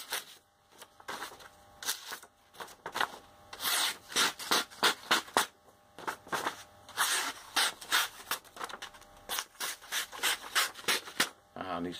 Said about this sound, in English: out in the field, now you have a sharpener